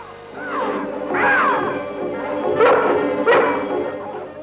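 Dogs in a film trailer for a story about wild dogs let loose in the woods give several barks and yips, two strong bursts near the start and two more later, set against a music and effects backdrop.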